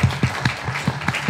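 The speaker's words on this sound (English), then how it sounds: "Let's give you a round of applause." A handful of evenly spaced hand claps in a steady rhythm, close and fairly soft, like a small round of applause.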